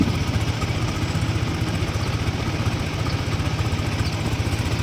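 A Yamaha Sniper 155 VVA motorcycle engine idles to warm freshly changed Motul oil, giving a steady, close, rhythmic putter with even pulses and no revving.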